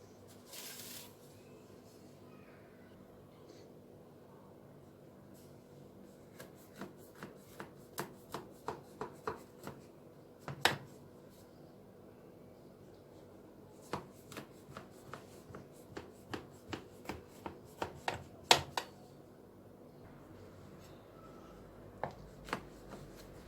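A knife slicing through layered phyllo cold baklava in a tray, a run of crisp, close crunching cuts coming in rhythmic bursts separated by short pauses, with no talking.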